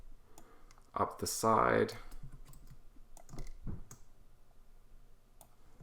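Computer mouse clicks come in short, sharp bursts while grid shapes are copied and moved in a design program, mixed with soft keyboard-like ticks and brief quiet talk.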